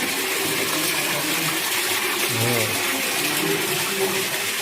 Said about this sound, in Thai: มีน้ำตกตลอดทางฮะ